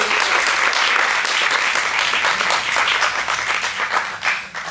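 A crowd at a storytelling event claps steadily and loudly, a full wash of applause that tapers slightly toward the end.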